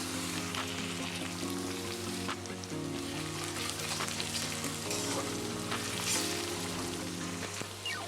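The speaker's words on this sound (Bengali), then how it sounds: "এবারে দিয়ে দেবো মিহি করে কেটে রাখা রসুন কুচি" Finely chopped garlic fries in a pan for mixed egg and prawn chowmein, giving a soft, steady crackling sizzle. A low tonal hum sits beneath the hiss, and no voice is heard.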